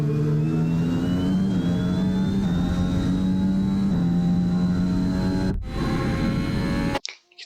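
An F1 race car engine from the F1 21 game screams on the Shanghai track, its pitch climbing steadily, then dropping sharply as the car brakes before cutting out.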